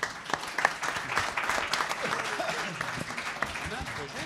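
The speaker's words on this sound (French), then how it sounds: "Je pense qu'on peut applaudir l'ensemble des participants." A conference audience applauds the participants at the close of a session, a steady patter of clapping from a modest crowd, with some voices mixed in.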